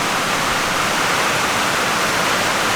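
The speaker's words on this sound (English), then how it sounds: "We're getting a lot of rain." Heavy rain pours onto a lake, a dense, unbroken hiss that stays loud and even from start to finish, with no voices.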